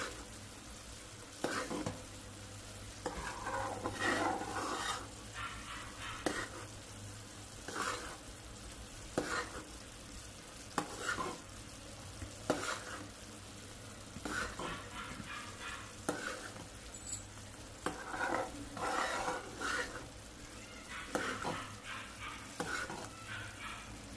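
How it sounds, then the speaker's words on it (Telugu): Spoon stirring a thickening khayam mixture in a pan as it cooks toward a coffee colour, giving repeated scraping strokes over a steady low sizzle, close and moderately loud with no talking. "ఇదంతా కొంచెం కాఫీ కలర్ వచ్చేంత వరకు మనం కలుపుతూ ఉండాలి"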